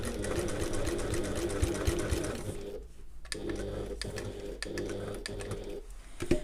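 A sewing machine stitches a handbag in a fast, continuous whirring run, stops briefly as the needle rests for a pivot, then starts again in shorter bursts, close and fairly loud with no talking.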